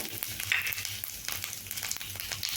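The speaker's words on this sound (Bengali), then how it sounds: "জিরেগুলোকে আমি বেশ একটু ভালোভাবে ভেজে নেব" Cumin seeds and dried red chilies frying in oil for a chana dal dish, a steady close sizzle with small crackles and pops throughout, no voices.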